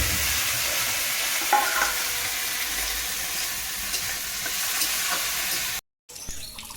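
Banana flower and green chilli hit hot oil in a pan and fry with a loud, steady sizzle and stirring, ending in an abrupt cut followed by fainter household clatter.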